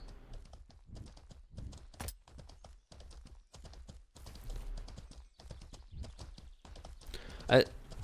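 Horse hooves clip-clop at a steady walking pace in the game Mortal Online 2, faint and even, with someone talking over them and a sharp louder sound near the end.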